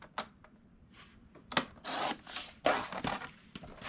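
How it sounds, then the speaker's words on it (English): A paper trimmer slices a thin border off a sheet of paper while crafting an embellishment book, giving several close rasping, rubbing strokes with brief scrapes, no talking. "I'll just put this in my trimmer, and I'm just going to trim a little border"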